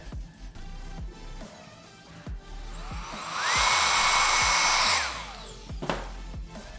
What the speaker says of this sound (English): Blow dry down, just like we did with that first section.